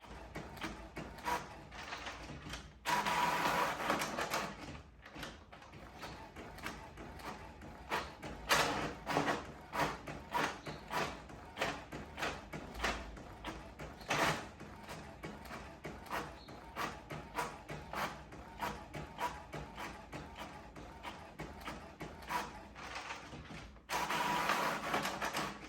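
An office printer prints double-sided booklet pages, giving a faint, busy run of whirring rollers and rapid mechanical clicks and thumps, with louder bursts of paper feed and no voices over it.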